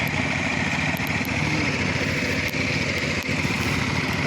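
Several engine-driven water pumps run at a pond being drained, giving a continuous buzzing, rattling motor drone close by and fairly loud, with a few faint clicks on top.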